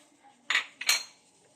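Chicken wings are mixed with salt in a bowl, two quick, quiet clattering knocks against the bowl in an otherwise hushed moment.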